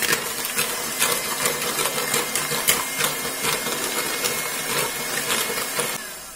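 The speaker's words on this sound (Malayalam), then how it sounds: "നമുക്കിത് കുറേശ്ശെ ചേർത്തിട്ട് നമുക്കൊന്ന് നന്നായിട്ടൊന്ന് ബീറ്റ് ചെയ്തെടുക്കാം" An electric beater whirs steadily as sugar is beaten into batter for a wheat banana cake, a continuous, fairly loud motor drone with slight rhythmic pulsing and no talk.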